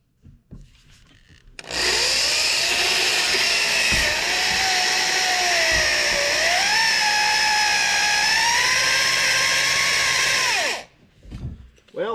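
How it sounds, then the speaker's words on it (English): A power drill whines steadily for about nine seconds, its pitch rising and dipping as the bit bores through the metal of a John Deere tractor, loud and close. "now it's time to start drilling holes."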